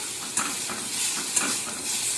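Potatoes and onions with whole cumin frying in a pan, a dense close sizzle punctuated by two soft stirring scrapes.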